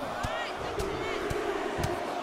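A WWE 2K23 arena crowd sends up a steady, surging roar of cheering throughout a wrestling match, broken by periodic heavy thuds of impacts in the ring.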